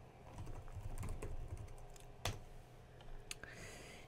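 Code is being typed on a computer keyboard for programming a LEGO robot. Keystrokes clatter steadily and close, with a few sharper louder key hits, and no voices.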